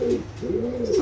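Pigeons cooing up close in a home pigeon loft, a few soft, throaty rolling coos in quick succession with faint background noise.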